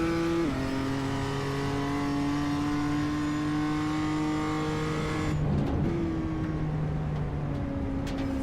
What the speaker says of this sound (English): It's tight, it's twisty, with some 30 plus BMWs tearing around there.